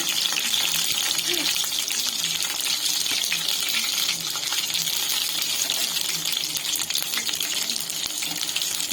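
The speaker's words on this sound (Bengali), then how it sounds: "তো এই পিঠে পিঠটা ভালোভাবে আমি ভেজে নেব" Bengali banana flower chops fry in a pan, giving a dense, continuous crackling sizzle that stays steady and close throughout.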